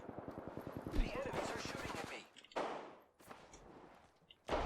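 Enemy gunfire in the Apex Legends video game: bursts of rapid automatic shots, loud and close, followed by a few separate sharp single reports.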